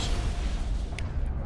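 Explosions hurled by an enemy in Mass Effect, deep booming blasts with a sharp crack near the middle, loud and continuous over a short burst.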